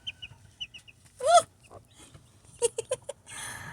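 Newly hatched duckling chicks give a few short, high peeps and chirps at close range, scattered through otherwise quiet moments with small rustles between calls.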